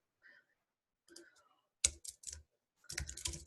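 A few quick bursts of keystrokes on a computer keyboard, close and clicky, separated by short pauses of near silence.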